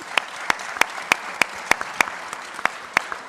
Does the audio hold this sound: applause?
yes